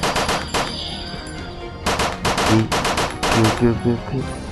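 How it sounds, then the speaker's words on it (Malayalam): Rapid automatic gunfire from the video game Occupation 2.5 rings out in several dense bursts with short pauses between them, loud and continuous over game ambience. "എങ്ങോട്ടാണെങ്കിലും വെച്ച് വെടിവെക്കുക."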